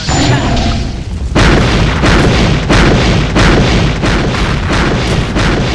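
Spirit attack explosions in the Rumble Fighter fighting game, on a Stone Golem Gauntlet Exocore character: heavy booming blasts that repeat in a rapid, steady string, loud and close.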